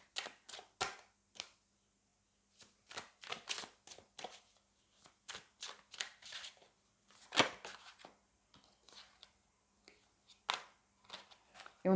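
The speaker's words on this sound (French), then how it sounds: "Je vais prendre une dernière carte et puis après on prendra une carte des anges." Tarot cards handled during a reading: a series of quiet, close card slaps and flicks in irregular bursts as the deck is shuffled and cards are drawn, with stretches of near silence between.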